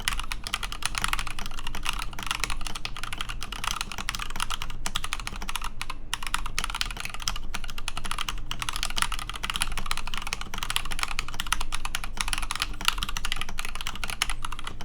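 Rapid, continuous typing on a PFU Fujitsu HHKB Studio keyboard, a dense stream of close, clicky keystrokes with no pauses, steady and fairly loud throughout.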